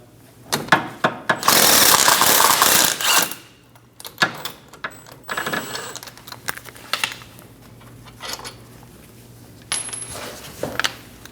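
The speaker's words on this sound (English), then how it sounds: "Go around and remove all of the wheel bearing bolts." A ratchet loosens the wheel bearing bolts on a 2008-2015 Scion xB front hub, with quick clicking bursts, metallic clinks and a longer rattling stretch, close and loud with pauses between.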